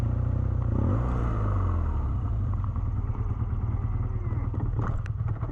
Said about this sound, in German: denn Schweinchen Dick, Olivers Motorrad, scheint noch müde zu sein.